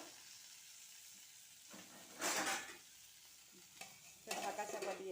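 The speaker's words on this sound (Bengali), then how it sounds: "একটু হালকা টমেটোটা কাঁচা ভাবটা চলে যাবে, একটু ভেজে নেব।" Baby tomatoes fry in a pan for chutney over low to medium heat, a steady soft sizzle broken by louder bursts of stirring and spoon scraping near the start, middle and end, with no talk.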